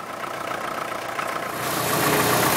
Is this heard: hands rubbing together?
no